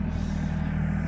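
A homestead tractor engine runs at a steady idle nearby, a continuous low throbbing rumble with no talk over it.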